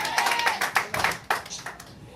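A church congregation claps in a quick burst of scattered applause, close and lively, with a voice speaking briefly over it.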